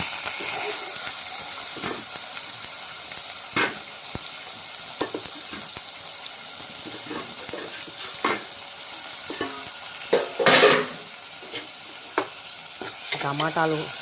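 Tomatoes fry in a pan with a soft continuous sizzle, punctuated by irregular scraping and clinking stirs of a utensil, close by and without speech.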